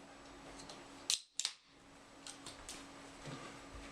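A Monster-sized energy drink can pops open with a sharp crack followed by a quick second snap and a brief fizzing hiss, close by in a quiet room.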